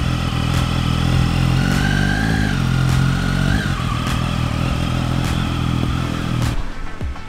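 A motorcycle engine runs steadily and loudly up close, with a continuous rumbling drone and occasional clicks and small revs over its seven seconds.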